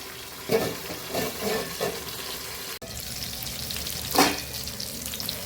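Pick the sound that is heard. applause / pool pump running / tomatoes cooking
tomatoes cooking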